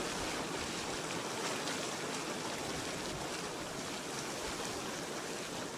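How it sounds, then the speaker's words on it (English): Continuous rushing, churning water with a steady broadband roar from geothermal hot pools at Rotorua, New Zealand, bubbling and boiling vigorously, close and loud with no voices. "that wasn't an actual steam explosion, that was a hot pools at Rotorua, New Zealand"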